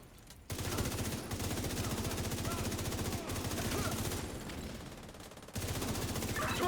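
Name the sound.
gunfire in a video game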